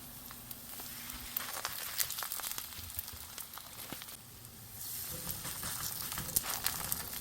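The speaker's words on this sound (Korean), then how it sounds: "팬에 기름을 두르고 호박잎을 한 장씩 얹어서 구워줄 거예요." Pumpkin leaves frying in oil in a pan give a steady, close crackling sizzle with scattered pops, swelling a little louder toward the end.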